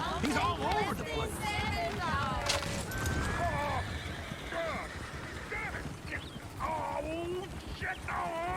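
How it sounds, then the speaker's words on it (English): Horses in the Red Dead Redemption 2 video game neigh and whinny repeatedly amid clattering hooves, with several voices talking and shouting over a busy, noisy scene throughout. "Oh, shit, the horses!"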